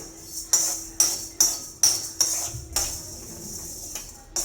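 Lentils being dry-roasted in a pan for sambar masala: a steady series of sharp metallic clinks about twice a second as a spoon scrapes and strikes the pan, close and fairly loud.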